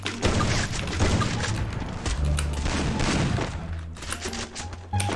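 Gunfire in a shooting video game, with dense, rapid bursts and booming shots close and loud throughout, the rhythm breaking briefly before resuming, with occasional faint voices underneath.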